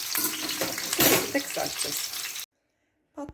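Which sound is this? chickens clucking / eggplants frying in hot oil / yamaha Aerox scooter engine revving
eggplants frying in hot oil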